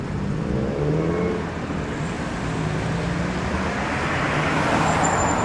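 A Toyota RAV4 EV electric car pulls away at Toyshow, a steady road and motor rumble continuing alone and fairly close, with traffic noise around it.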